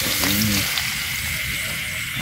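Food sizzles steadily while frying in a pan for a Vietnamese sour soup made with catfish, a loud, close, continuous hiss with a brief stir near the start and no talking.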